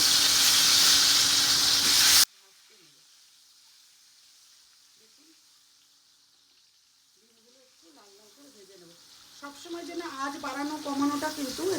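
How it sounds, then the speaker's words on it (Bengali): Whole eggs for an egg curry hit a pan of oil with a loud, dense sizzle for the first two seconds. The frying then drops away to a faint background while voices and tonal sounds rise later. "ডিমগুলো একে একে ছেড়ে দেবো ডিমগুলো কিন্তু জাস্ট অল্প ভাজা করবো"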